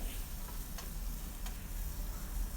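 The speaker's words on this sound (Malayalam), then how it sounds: "ഇനി ഇതേ പാനിൽ തന്നെ ഞാൻ കുറച്ച് ചിക്കൻ ചെറുതായിട്ട് അരിഞ്ഞത് ഉപ്പും കുരുമുളകും കൂടി ചേർത്ത് നന്നായിട്ടൊന്ന് റോസ്റ്റ് ചെയ്തെടുക്കുന്നുണ്ട്" Chopped chicken seasoned with salt and pepper roasts in a pan, giving a faint, steady sizzle with a few light ticks and stirring scrapes.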